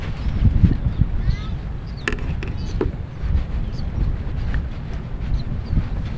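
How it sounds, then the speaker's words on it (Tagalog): Strong wind buffets the microphone in a steady low roar at a fishing spot, with faint voices and brief clatter underneath. "malakas ang hangin"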